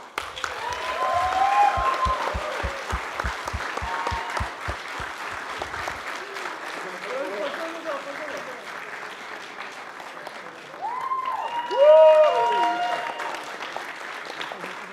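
An audience applauds a prize winner at a data project challenge event with sustained clapping that slowly thins out, while voices and laughter rise over it later on. A low rhythmic thumping runs underneath during the first six seconds.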